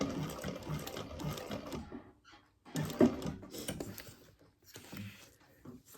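A sewing machine stitches a crossbody bag in two bursts of rapid mechanical whirring, separated by a short pause, close and fairly quiet.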